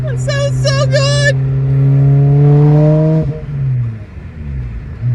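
A 2006 Lotus Elise revs up in a long rising pull, loud and near, then lets off into a lower drone as voices talk over the engine.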